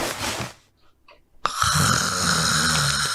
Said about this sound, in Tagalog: mahimbing pa rin natutulog at humihilik